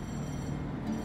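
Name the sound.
commuter train passing by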